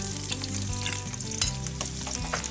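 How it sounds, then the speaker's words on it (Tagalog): Oil heats in a frying pan with a dense, steady sizzle that stays loud and close throughout, with music playing underneath. "Ipainit ang pan at maglagay ng oil."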